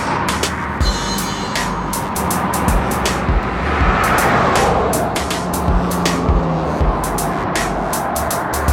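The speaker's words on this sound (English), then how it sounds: "I like these quiet roads to get off these noisy highways. The cars are too noisy." Constant roar of highway traffic with repeated rushing whooshes of cars passing close by, loud and steady throughout.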